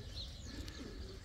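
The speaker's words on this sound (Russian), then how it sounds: "Разогнал я голубей." Pigeons coo in a soft, low murmur amid steady outdoor background noise, with faint bird chirps higher up, continuous and fairly quiet over a brief moment.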